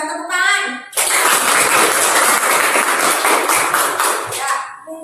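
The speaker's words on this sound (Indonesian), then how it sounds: "Luar biasa, tepuk tangan." Classroom applause from students in an Indonesian lesson, bursting in after a brief spoken word and continuing as loud, close, dense clapping for several seconds before thinning out, with a few voices mixed in.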